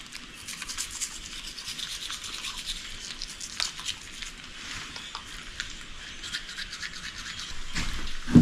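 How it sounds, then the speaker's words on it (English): A toothbrush scrubbing a Cavalier King Charles Spaniel's teeth, close, rapid irregular rubbing and scraping strokes that continue steadily with no talking. "Sometimes they try to eat the toothbrush when I'm doing it."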